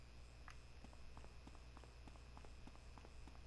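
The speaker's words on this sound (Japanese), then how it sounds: "俺バイオハザードのこの足音が好きなんだよね" Footsteps in Resident Evil HD Remaster, a steady run of hard, clicking steps at a brisk even pace over a low constant background hum, fairly quiet and with no talking.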